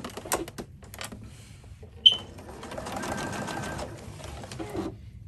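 A sewing machine runs a short burst of top stitching along the neckline of a burqa for a twelve-year-old girl, a quiet whirring run of about a second after some brief clicks and handling noises.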